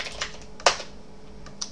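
Keys on a computer keyboard tap in a short, irregular burst, a few crisp clicks with one louder stroke, close and clear with no talking.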